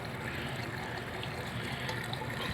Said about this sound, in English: I'm splashing water